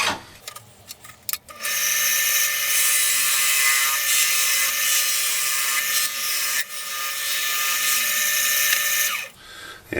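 A wood lathe makes a light clean-up cut on a turned Christmas ornament, a steady high-pitched whine with scraping texture that runs almost the full length after a few brief starts, then stops near the end.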